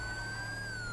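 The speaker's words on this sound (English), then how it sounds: "Oh, that siren's really obnoxious." A police car siren from the GTA V LSPDFR mod wails loudly and continuously in a steady high tone throughout the brief moment.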